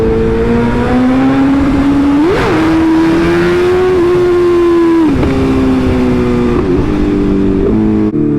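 A Lamborghini engine sounds loud and near, holding a steady droning tone with several rising and falling pitch shifts as it passes and changes gear.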